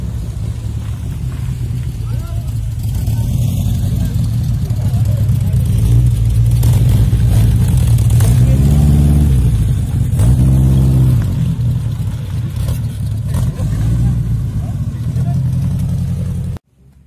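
Alpine and Caterham sports cars rev at a vintage car show, a loud engine note rising and falling in two clear revving swells over steady idling, with people talking nearby.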